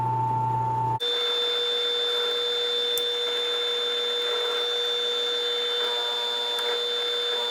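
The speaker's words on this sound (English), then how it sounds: "I'm gonna just go down through here with this small 16th inch bit, just to make sure I have a good center there for the 3/4 inch bit" A small 1/16 inch bit bores a pilot hole while building a sleeve hitch scarifier-ripper. A steady, even motor drone with a high whine runs throughout after a sharp start, with small ticks along the way.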